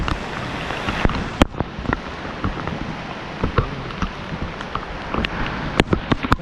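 Heavy Kerala monsoon rain pours down in a dense, steady hiss, with sharp drips and splats striking nearby surfaces at irregular moments throughout.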